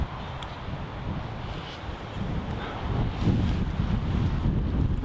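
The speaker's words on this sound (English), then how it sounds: "it's starting to get a little bit windy" Outdoors, gusty wind rushes and buffets the microphone with a continuous low roar that swells a little stronger toward the end.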